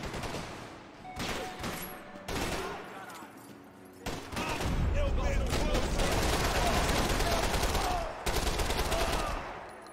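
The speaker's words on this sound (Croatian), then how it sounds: "U ovoj epizodi samo pucnjava" Bursts of rapid gunfire crackle in repeated volleys with short pauses between, loud and close, building into a long sustained barrage.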